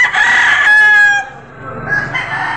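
A close, loud rooster crows at a Padre Garcia livestock auction market, one long strained call that rises and then tails off, with faint farmyard noise behind it.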